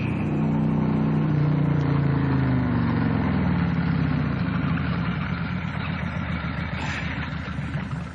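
A motorcycle engine idles while being parked, a loud, close, steady low rumble with a slight rise in pitch early on, continuing alone without talk.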